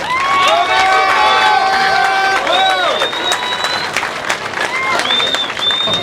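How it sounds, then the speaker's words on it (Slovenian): A crowd at an outdoor stage event applauds and cheers for a Mexican mariachi band, a loud wash of clapping and shouts carrying sustained whistles or voices above it throughout. "meksikanska originalna banda zasluži še en izdaten aplavz."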